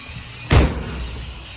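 A walk-through door between the horse area and dressing room of a 2013 Shadow Pro two-horse gooseneck trailer closes with a single sharp metallic slam, followed by a short fading rattle.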